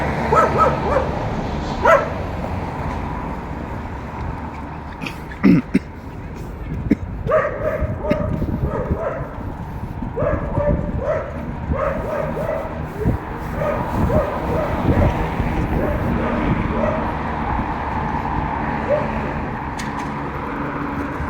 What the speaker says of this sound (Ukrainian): собака гавкає навіть